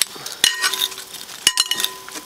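Mushrooms and potatoes being stirred on a barbecue hotplate: a couple of sharp utensil scrapes and clinks over a soft sizzle, close and fairly quiet.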